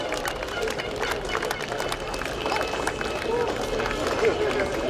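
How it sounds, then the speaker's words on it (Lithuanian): A crowd at a town festival parade in Plungė claps in sustained, dense applause under an announcer's amplified voice, with a continuous patter of hands throughout. "Tai garsiais plojimais paplokite Plungės rajono medžiotojų ir žvejų draugijai."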